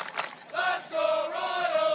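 Fans chant from the stands at a college men's soccer match, Lambton at Redeemer, a sustained, loud, tonal group chant rising and holding over steady crowd noise.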